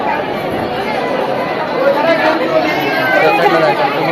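Large packed crowd at the Ekvira Devi temple; continuous dense chatter of many voices, close and loud, with no single voice standing out.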